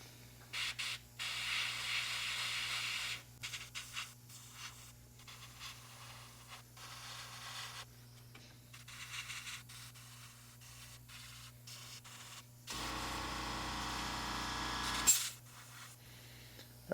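An airbrush sprays paint onto parts of a 1/48 Tamiya F-4B Phantom model, including the landing gear and engine cans, in short, quiet hissing bursts. One longer, stronger burst stands out over a steady low hum.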